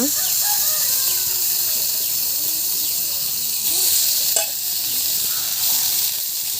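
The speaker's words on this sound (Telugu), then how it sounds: "జీడిపప్పు వేయించుకోవడానికి వెనపూస వేస్తుందమ్మ" Homemade butter melts in a hot pan, ready for frying cashews, giving a loud, steady, close hiss of sizzling that runs unbroken through the whole stretch, with a few faint higher chirps in the background.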